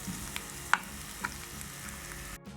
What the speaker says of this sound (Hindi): अब हमने 2 से 3 मिनट के लिए टमाटरों को सौते कर लेंगे।